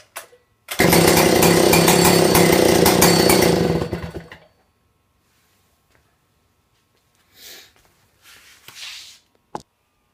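A Stihl 070 chainsaw roars to life up close, its engine running loud and rough for a few seconds before cutting off, followed by near silence with a few faint knocks and rustles.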